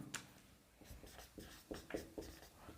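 Chalk or marker scratching across a classroom board in short, uneven strokes, close and fairly quiet, with pauses between bursts as a teacher writes out a chemistry term.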